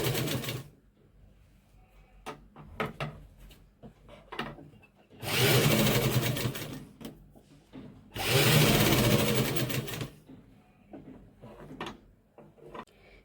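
A sewing machine stitching a coat-style collar runs in two sustained bursts of a few seconds each, loud and close, separated by quieter clicks and handling of fabric.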